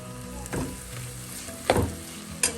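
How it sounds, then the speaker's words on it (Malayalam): Sautéed ingredients for fried chicken curry sizzle in oil in a pan under a continuous fry hiss, broken by three sharper scraping bursts from stirring. "മൂപ്പിച്ച എല്ലാം കൂടെ ഒന്ന് മിക്സ് ചെയ്യും"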